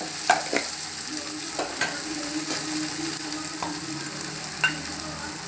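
Ginger garlic paste fries in a pan for mutton biryani, giving a steady close sizzle. A spoon stirs through it with scattered light scrapes and clicks.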